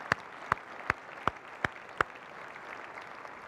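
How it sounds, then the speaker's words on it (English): Audience at a mayor's State of the City address in Riverside: six distinct, evenly spaced claps ring out sharply over a quiet room hum, then stop. "Is that some applause? Come on."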